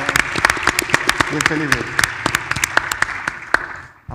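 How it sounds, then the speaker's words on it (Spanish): Audience applause at a fintech panel discussion, a dense run of sharp claps that carries steadily for about four seconds before stopping abruptly, with a few spoken words from the stage over it. "un aplauso para Zeppelin por lo que está haciendo"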